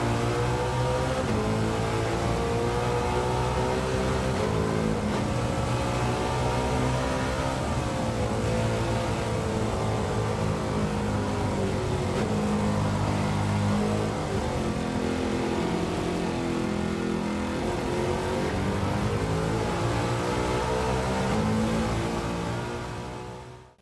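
A muscle car with a Cleveland V8 in Gran Turismo 7 roars steadily, a rich harmonic engine note rising and falling through revs and gear changes, loud and continuous with no talk.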